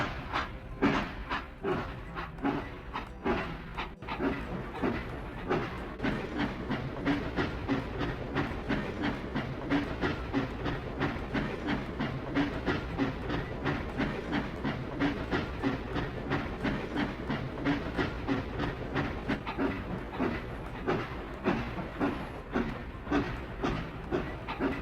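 A cartoon train rolls along in a kids' railway station game, with a steady, continuous clickety-clack of wheels and a soft hiss running throughout at an even, fairly loud level.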